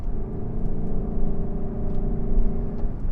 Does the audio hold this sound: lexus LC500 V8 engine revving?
yes